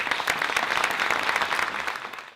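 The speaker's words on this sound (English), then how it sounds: "Let's give him a round of applause." A room full of students applauds a guest, a thick, lively burst of clapping that stays steady and fairly close before tapering off at the end, with no talking over it.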